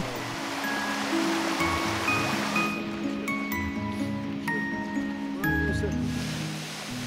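Svartifoss waterfall in Iceland's Skaftafell park, pouring between hexagonal basalt columns, a continuous broadband rush of falling water with faint intermittent tones over it, steady and moderately loud throughout.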